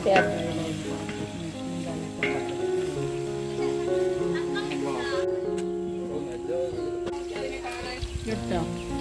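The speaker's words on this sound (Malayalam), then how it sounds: "നമ്മളൊരു ചെമ്പ് വെച്ചിട്ടുണ്ട് വാപ്പിയാണ് ഉദ്ഘാടനം ചെയ്തുകൊണ്ടിരിക്കുന്നത് വാപ്പി ഇളക്കിക്കൊണ്ടിരിക്കുകയാണ്" Biryani being stirred in a large copper pot at a family gathering in a Kerala village, with a bubbling sizzle and scraping stirs under voices and music that carry throughout.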